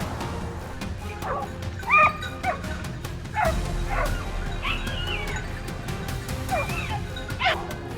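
Hunting dogs during a wild boar hunt give scattered yips, whines and short barks over several seconds, some near and some farther off, against steady outdoor background noise.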